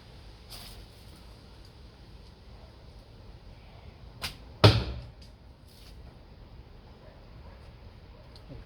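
An arrow strikes the end of another arrow already in the target, giving a sharp thwack and a brief rattle, with a fainter knock just before, heard alone against quiet outdoor background.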